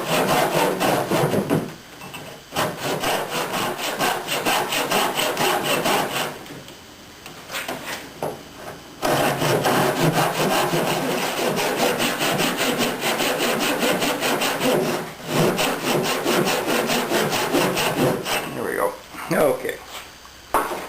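A hand saw cuts through a wooden rail corner in steady back-and-forth strokes, close and loud, pausing briefly a few times before resuming.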